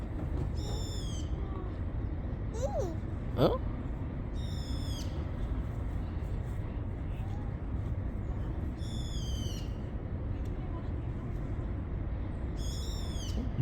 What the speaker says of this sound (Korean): 이거 무슨 소리야? 새소리 같은데 새소리 새소리